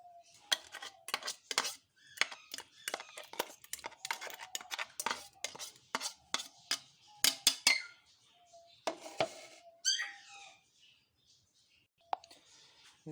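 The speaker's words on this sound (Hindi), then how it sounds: "तो इसको अब हम एक बाउल में अलग कर लेंगे।" Thick ground paste for pumpkin curry is scraped into a bowl, giving a run of irregular clinks, taps and scrapes of a utensil on a container. Pauses break up the sounds.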